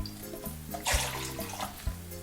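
Five to six cups of water pour from a tap into a pan for cooking pasta, a bright splashing gush that swells briefly over soft background music.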